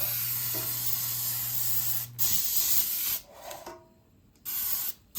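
Grease sprays from a can into a cake pan for a vanilla cake in several hissing bursts, the longest at first and then shorter ones, separated by brief quiet gaps, close up and without talking.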